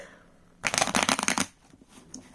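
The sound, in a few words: shuffling a deck of cards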